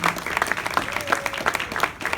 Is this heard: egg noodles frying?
no